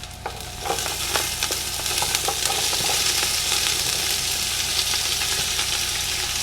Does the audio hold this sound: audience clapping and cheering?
no